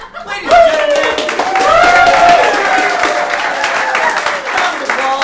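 A live show audience breaks into sustained applause, dense steady clapping with some cheering and whistles, loud and continuous throughout.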